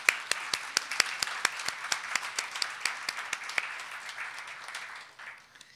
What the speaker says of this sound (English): if we can give a brief round of applause for our 2016 winners